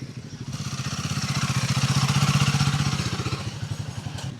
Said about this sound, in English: And there we have Leon on the Himalayan